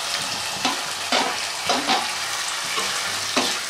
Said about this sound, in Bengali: এবার ভেজে রাখা আলু পটলটা দিয়ে দেব